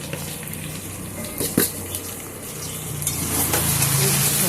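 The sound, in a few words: frying potatoes and onions in a pan for fish curry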